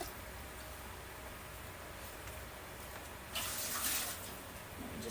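Water runs steadily from a tap into a container being filled to a two-inch mark, a constant rushing hiss that grows louder and brighter partway through, with no talking.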